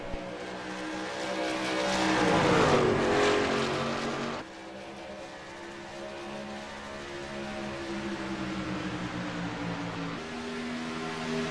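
Race cars roar around an oval track during a broadcast race, a loud engine drone rising and falling as cars sweep past, with a sudden drop in level midway and a steady multi-car hum after.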